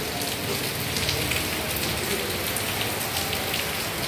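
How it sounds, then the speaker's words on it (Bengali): Evening rain falling steadily, a dense, even hiss of drops on surfaces that stays loud and unbroken throughout, with no clear voices. "বৃষ্টিও নেমে গেছে।"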